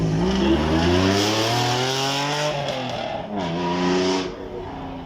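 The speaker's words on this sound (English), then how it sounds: "our final car coming up the hill today at day one of Beaulieu Supercar weekend is our Honda NSX" A Honda NSX supercar accelerating uphill during a demonstration run at a supercar weekend at Beaulieu, its engine howling through rising gear pulls with a brief dip at a shift, loud and close with tire noise.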